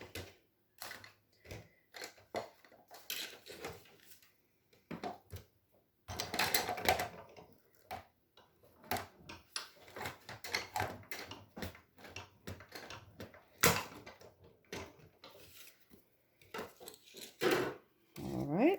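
Crafting die-cut machine running a card through, heard as clicking, ratcheting mechanical turns and clunks in irregular bursts, close and fairly quiet.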